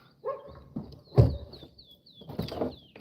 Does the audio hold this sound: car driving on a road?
no